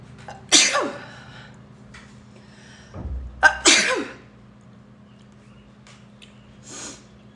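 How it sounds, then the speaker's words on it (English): A person sneezes twice up close with sharp explosive bursts and a snort between them in a quiet room, followed by a faint breathy sound. "I feel like I gotta sneeze."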